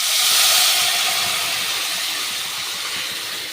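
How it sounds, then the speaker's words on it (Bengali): Dal poured into hot tempering gives a loud, bright hiss of sizzling that bursts at once, then slowly eases as it settles, with no talking over it. "এবার আমি ডালটাকে ঢেলে দেব।"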